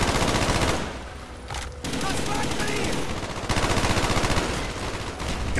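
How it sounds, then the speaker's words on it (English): Sustained machine gun fire from a tower position in the Call of Duty Black Ops campaign, with dense rapid bursts running throughout, a brief lull midway and other battle noise behind. "Got an MG in the tower!"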